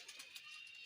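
Faint, soft cooing from pigeons of breeds such as the Shahjahanpuri and dabba wala, a low steady murmur with a few brief pulses and no voices.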